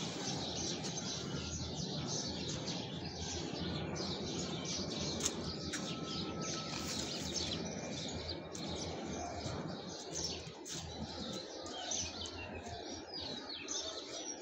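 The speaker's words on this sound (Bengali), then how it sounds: "আর পাখির কিচির মিচির" Birds chirp and twitter continuously in a fruit-tree garden, a dense outdoor chorus of small calls over steady background hiss, with no talking.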